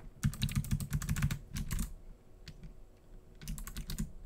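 Rapid computer keyboard typing during MapleStory gameplay, keys clattering in dense bursts with short pauses between runs, close and fairly loud with no talking.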